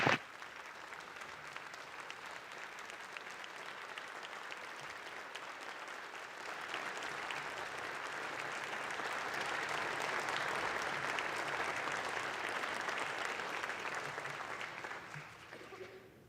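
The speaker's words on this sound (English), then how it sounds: "how about a round of applause for McKenna and all the work that she did?" A round of applause in a state House chamber during a floor session, steady clapping from many members that swells midway, holds for several seconds, then fades out near the end.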